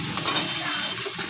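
Shrimp frying in a pan for a bottle gourd korma with coconut, giving a steady close sizzle with light stirring scrapes through a short stretch, no talking.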